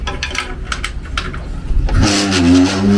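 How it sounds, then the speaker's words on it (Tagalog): A small motorcycle engine cranks and catches, settling into a steady close idle hum after a few seconds of clattering starter noise and handling sounds. "gagamitin natin ang motor ng aking kapatid par"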